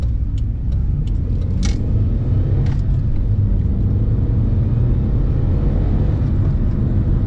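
Toyota AE92 driving on the road with newly fitted coilover suspension, a loud steady interior rumble of engine and road noise with a few light rattles early on.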